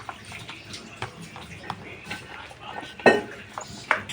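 Sisig is stirred with mayonnaise in a pan, giving soft wet scraping and clinking of a utensil against the pan. A few sharper metallic knocks stand out over a quiet, low background.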